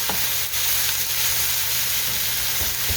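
Lean sausage sautéing in olive oil gives a steady, close frying sizzle that holds level throughout, with a constant low hum beneath and no talk.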